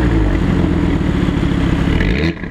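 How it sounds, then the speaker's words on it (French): A 2022 Audi RS3 with sport exhaust runs loud and close, its engine giving a steady throaty drone with a rough, burbling texture that drops off abruptly near the end. "avec l'échappement sport, même à l'extérieur, vous l'entendez"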